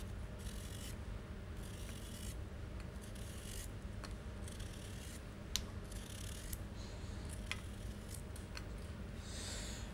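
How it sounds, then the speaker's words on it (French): A knife carving a firm-fleshed potato into a seven-sided château shape, with soft repeated scraping and rasping strokes close by, each cut a short dry shave over a steady low background hum. "On coupe les extrémités toujours et on va tourner."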